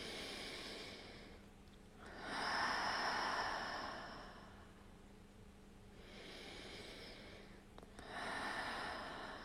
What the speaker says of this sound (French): Une longue inspiration par le nez. Expire, souffle par la bouche.